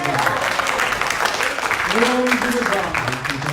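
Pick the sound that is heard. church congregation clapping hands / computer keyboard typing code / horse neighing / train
church congregation clapping hands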